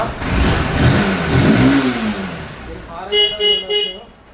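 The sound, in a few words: Honda CB Unicorn motorcycle engine running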